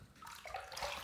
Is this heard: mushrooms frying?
no